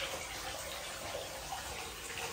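Running water steadily rinses soap off a husky's coat in a bathtub, a continuous broadband wash of splashing and pouring with no talk over it.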